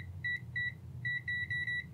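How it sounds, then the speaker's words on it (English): A multimeter set to continuity mode gives a string of short, high electronic beeps in an uneven rhythm, a few separate chirps and then a quicker cluster, fairly faint over a low background hum. "So the way I do this is I set my multimeter in continuity mode."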